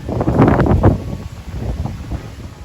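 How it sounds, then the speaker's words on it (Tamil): Strong gusty wind in an outdoor garden, buffeting loudly at first and then easing into a softer, steady rush, with no voices. "பயங்கர காற்று எங்கள் ஊரில்"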